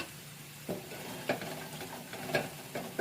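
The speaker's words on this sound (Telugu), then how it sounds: "ముందుగా మనం ఆలు ఫ్రై చేసుకున్నవి వేసి మొత్తం కలియపెడదాము" Fried potatoes being stirred in butter in a pan, with curry leaves, for an aloo butter garlic snack: several soft scraping stir strokes spaced through a low, steady sizzle, fairly close.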